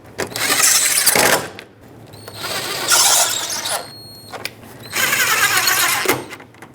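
A power tool tightens torque screws at the top of an AC condenser on a 2010-2017 Chevrolet Equinox, whirring loudly in three separate bursts with short pauses between them. No one speaks.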